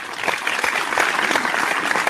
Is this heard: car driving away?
no